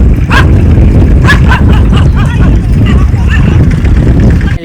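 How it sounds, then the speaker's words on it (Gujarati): A dog on a farm gives several short, sharp barks and yips over a loud, noisy outdoor background, with brief gaps between them. "આ ભાહે છે મને."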